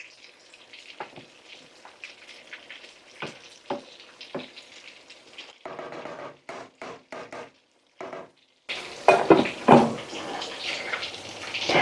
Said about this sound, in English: So I'm adding another cup of water.